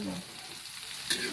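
Banana chips frying in hot oil, a steady dense sizzle close by with a brief louder crackle near the end and no talk.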